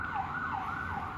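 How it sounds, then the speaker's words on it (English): An ambulance siren wails in rapid rising and falling sweeps as it passes at moderate distance, over a low rumble of road traffic. "Freaking ambulance."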